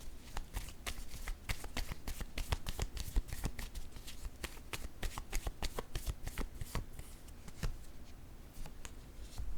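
Tarot cards shuffled by hand in a steady run of crisp riffling snaps and soft slaps, close and fairly quiet, continuing with no voices for nearly ten seconds.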